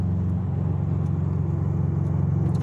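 Subaru STi on new coilovers driving along, a steady loud low engine rumble with road noise heard from inside the car and no talking.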